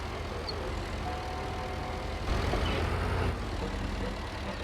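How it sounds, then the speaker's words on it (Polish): Tractor engine running in the Farming Simulator 22 video game, a steady low droning hum with no breaks that swells a little louder for about a second midway before settling back. "Silnik włączony jest, silnik włączony."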